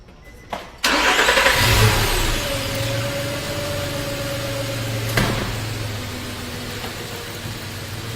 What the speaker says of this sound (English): So the next step of this test is start the engine.